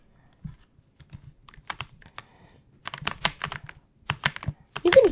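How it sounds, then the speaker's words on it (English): Computer keyboard keys tapped in irregular bursts of clicks, close and moderately loud, growing denser toward the end with no talking over them. "You can hear my keys."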